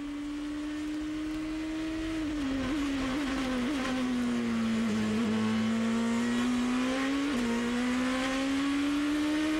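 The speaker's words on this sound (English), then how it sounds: "We expect this kind of nose-to-tail and wheel-to-wheel racing in GP2" 2006 GP2 Series race cars run wheel-to-wheel in Turkey, a loud, sustained engine howl that dips and climbs with gear shifts and passing cars, with a second engine audible beneath it.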